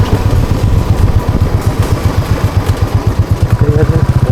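A motorcycle engine runs close by with a steady, loud, throbbing chug and clattering pulses throughout, idling and revving slightly, alone without talk.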